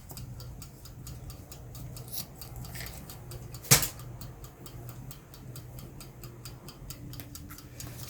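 Scissors cut paper for a junk journal layout in a series of soft, rapid, evenly spaced snips close by, with one sharper clack partway through and a quiet room hum beneath.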